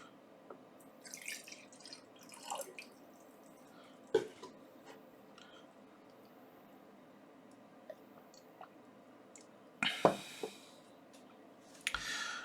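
Someone takes a few small sips of water close to the microphone, quiet slurps and swallows scattered over a hushed room, with a louder gulp near the end.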